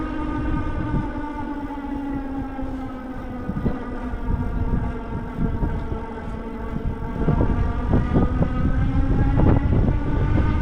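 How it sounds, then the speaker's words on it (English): A Blix Sol X beach-cruiser e-bike motor running while riding, a steady whining hum with rising harmonic tones, mixed with rushing wind and road noise throughout. "You can hear the motor."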